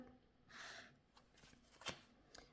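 Tarot cards pushed and slid across a table, a faint rustling sweep early on followed by a few soft, brief card taps and shuffles, quiet and close.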